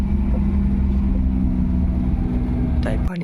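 A car engine idles in a steady low rumble after being driven up a rough road to a hilltop temple, with a voice over it and a clunk at the end.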